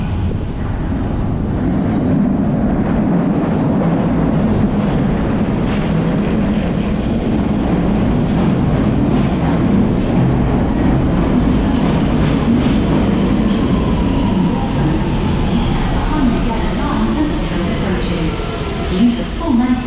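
A London Underground train sits at a westbound platform, a steady loud rumble and hum filling the station with faint rail clatter, while a platform announcement and nearby voices talk over it.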